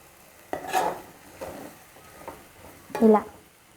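Brinjal and potato masala curry being stirred in a pan, with a few scraping spoon strokes over a soft sizzle, close and fairly quiet.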